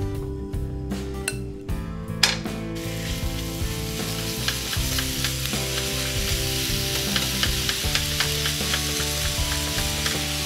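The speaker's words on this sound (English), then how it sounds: "So I'm going to brown the turkey." Ground turkey browning in a hot pan, a loud steady sizzle with occasional clinks and stirring scrapes running throughout, no voices.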